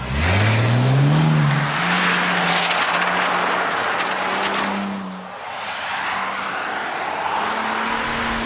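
A Bentley Continental GT driving hard on a test track, its engine rising and falling as it accelerates through gears, with a tyre squeal partway through, loud and close throughout.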